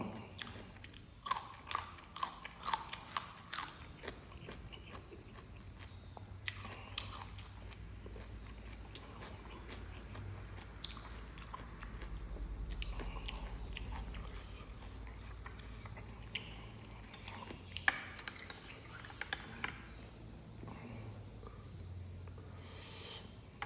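Giant blood cockles being eaten up close, with repeated wet chewing, biting and crunching sounds that run steadily for the whole stretch, with no talking.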